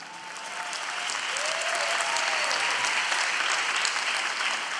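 Sustained applause from an audience gathered with Pope Francis, a dense, steady roar of clapping that swells and holds loudly, with faint whistles or cheers rising within it.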